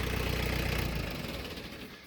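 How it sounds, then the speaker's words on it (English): A tractor engine idles with a steady low rumble that fades and winds down as it shuts off, close by and with no talking. "let's just shut the tractor off real quick"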